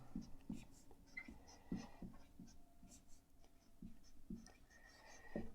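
A pen scratches out a maths equation on paper in short rhythmic strokes with brief pauses, faint and close.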